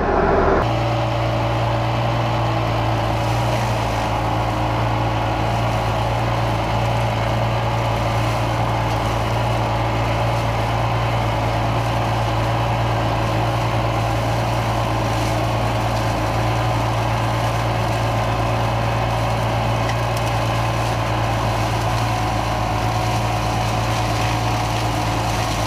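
A tractor engine idles during hedge maintenance with its power take-off and hydraulic pump setup, a loud, constant low drone with a steady hum that runs unchanged for the whole stretch with no talk.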